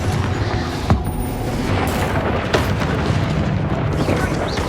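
Confringo blasting spells explode in Hogwarts Legacy combat, with several sharp booming blasts and bursts over a dense, rumbling battle din, loud and close.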